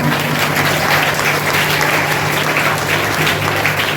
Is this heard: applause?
yes